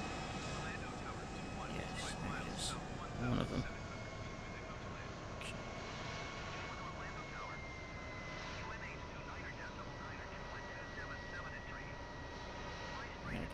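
A Vulcan bomber in Microsoft Flight Simulator 2020 descends toward landing at Orlando, with a steady, faint engine roar running throughout and a few brief clicks and thumps on top.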